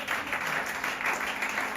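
A church congregation applauding, a steady wash of many hands clapping at once for a brief moment, with no individual claps standing out.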